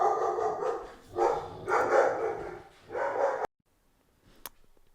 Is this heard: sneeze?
no